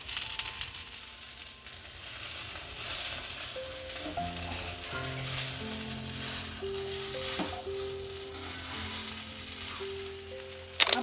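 Sabudana khichdi mixed and roasted in a pan, a steady sizzle and frying crackle with scraping stirs throughout, moderately close, with faint tonal background sounds and no talking.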